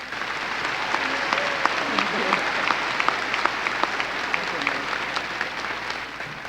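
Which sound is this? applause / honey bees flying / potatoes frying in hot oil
applause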